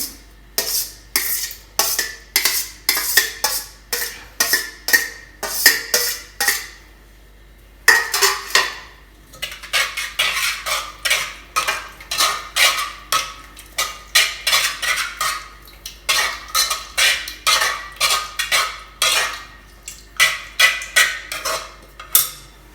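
A spoon clinks and scrapes repeatedly against a bowl while lassi is stirred into pumpkin raita, the rapid rhythmic strokes continuing throughout with one brief pause, close and clear with no talk.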